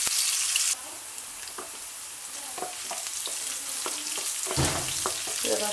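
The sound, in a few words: chopped onions and green chillies frying in a pan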